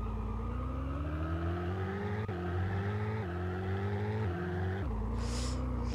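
A car drifting in the Roblox Vehicle Simulator video game, with a steady droning engine whose pitch climbs and drops through gear-like steps, loud and continuous, ending in a brief tire-screech hiss.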